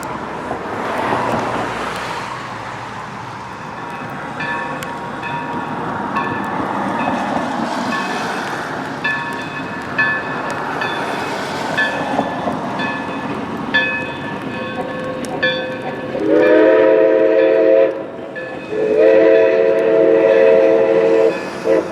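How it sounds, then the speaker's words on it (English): Woodstown Central Railroad No. 9 steam engine crossing a bridge over the Salem River in rural New Jersey: steady rumble of rolling cars, then two loud, sustained whistle blasts near the end. "We headed into Woodstown and stopped on a bridge over Salem River to watch the train cross."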